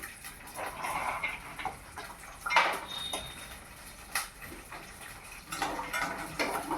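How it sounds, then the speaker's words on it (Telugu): Cashews and almonds are tipped into a pan while making dry-fruit laddus, giving a few quiet clattering rattles and metallic scrapes spread across the moment, with no talking. "జీడిపప్పు బాదం పప్పు వేసుకుందాం"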